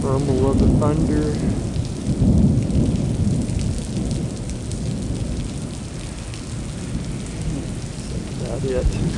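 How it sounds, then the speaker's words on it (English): Thunder rumbles during a monsoon rainstorm in Scottsdale, Arizona, with deep rolling booms building and fading over steady heavy rain, fairly close and loud, as a voice speaks briefly. "Thunder."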